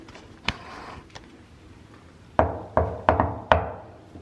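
Knocks on a door in a building near Chamonix in the French Alps: a faint tap first, then four sharp, fairly loud raps in an uneven run near the end, with no talking over them.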